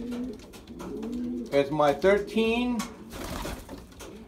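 A racing pigeon coos in soft, low, throaty notes, close by. Someone talks over and between the calls.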